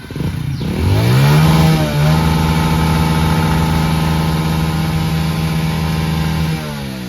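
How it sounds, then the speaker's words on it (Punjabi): A motorcycle stuck in thick mud beside the Sutlej river, its engine revving hard and then holding a loud, steady high drone for several seconds before easing back, close by with no talk. "ਬਾਈਕ ਨਿਕਲਣੀ ਬਹੁਤ ਹੀ ਔਖੀ ਆ ਮੁਸ਼ਕਲ ਕੰਮ ਆ ਰੇਸ ਵੀ ਦਿੱਤੀ ਚੱਕਾ ਵੀ ਨਹੀਂ ਘੁੰਮ ਰਿਹਾ"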